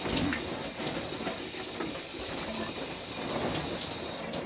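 Cold shower water pouring steadily onto a person, a dense continuous hiss with small irregular splashes, close and fairly quiet, with no talking.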